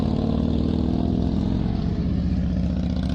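Motorcycle engine running steadily and loud throughout, close by, during a practical riding exam at a licensing office, with a constant low hum and no clear revs.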